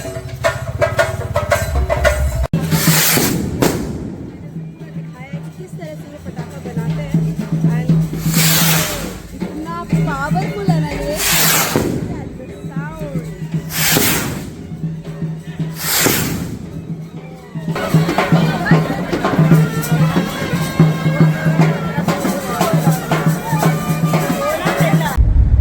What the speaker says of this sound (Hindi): आपको साउंड सुनाई दे रहा होगा फंक्शन जो हो रहा है